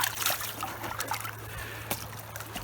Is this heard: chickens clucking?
no